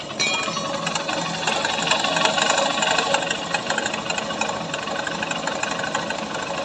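A Honda Shine motorcycle engine idles close up with a dense, rapid metallic rattle from its timing chain. The clatter persists after a new chain was fitted and stays fairly steady throughout.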